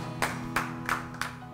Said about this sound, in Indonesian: berikan tepuk tangan bagi Tuhan Yesus Kristus